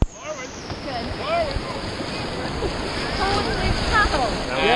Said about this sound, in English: I am about to get smacked by 40-degree water.